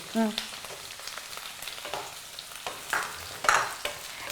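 Onion goes into a hot pan for tondekai chutney and fries with a quiet, faint sizzle. Occasional stirring scrapes and a couple of louder clinks break it, with no voices.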